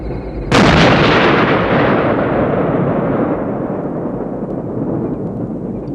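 An M60A3 tank fires its main gun at a gunnery range: a single loud, sudden boom that rolls into a long, heavy rumbling decay lasting several seconds.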